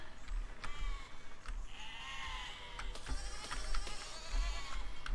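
Sheep bleat repeatedly in the video game Besiege, several wavering calls at moderate distance over low rumbling game noise and clanks.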